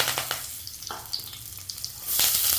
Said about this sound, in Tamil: இப்போ எண்ணெய் காஞ்சிடுச்சு. கருவேப்பிலை போட்டுக்கிறேன்.